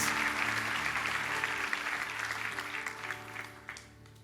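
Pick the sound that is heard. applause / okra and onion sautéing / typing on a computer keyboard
applause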